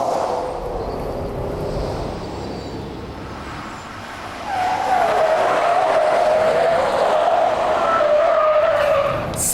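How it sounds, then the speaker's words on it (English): A car cornering hard on a test track, its tyres squealing in a sustained, rising whine over engine noise for several seconds, loud and close after a quieter start. "if I turn into this sharp corner, you can actually feel the front brake grabbing on to lock the tyre to stop me sliding"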